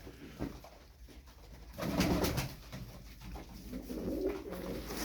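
Turkish tumbler pigeons cooing in a loft, soft repeated coos with a louder burst in the middle, fairly close, no talk over them.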